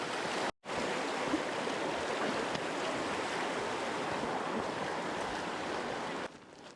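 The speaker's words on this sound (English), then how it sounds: "I can hear Patane Falls." Patane Falls, a waterfall in the remote Rockies near Mount Castelnau, pours as a steady broadband roar from a moderate distance, unbroken apart from a brief dropout near the start and a fade at the end.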